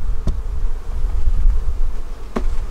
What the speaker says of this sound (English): there's a lot of bees on the top